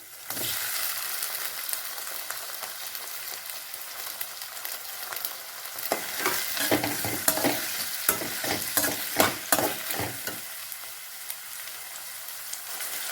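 Two cut tomatoes fry in a pan with onions for hotel-style sambar, a steady sizzle broken by a busy run of spoon scrapes and clacks against the pan in the middle, with no talking.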